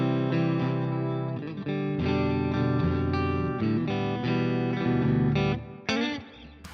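Clean channel of the Bogren Trivium AmpKnob guitar amp plugin with reverb added, as sustained strummed chords ring out fully. A final brighter strum fades into a reverb tail. No voices.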